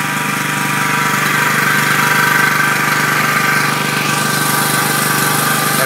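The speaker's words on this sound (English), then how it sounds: "So the generator started." A battery-bank charging generator converted to automatic start and stop runs steadily after starting on its own, a loud continuous engine drone with no breaks and no talk over it.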